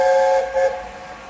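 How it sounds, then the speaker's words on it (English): LNER steam locomotive Sir Nigel Gresley, number 60007, sounds its whistle at Alton station: a loud, sustained harmonic blast with a brief second toot, over a hissing steam background. "It is just blowing whistle off and it's now clearing to proceed."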